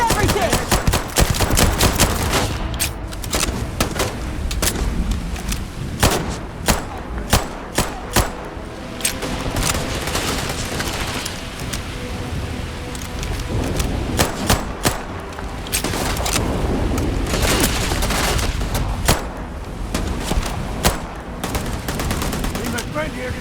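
Heavy gunfire in the video game Starfield, with sustained automatic bursts and single shots going on for over twenty seconds, loud and close, with shouted voices at times among the shooting.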